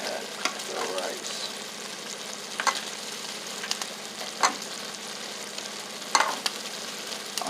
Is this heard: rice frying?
yes